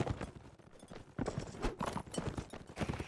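Horse hooves in a video game battle clip-clop in a quick, uneven series of fairly faint, close strikes under a noisy mix of game sounds.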